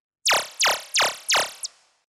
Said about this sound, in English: Then next, we have the laser.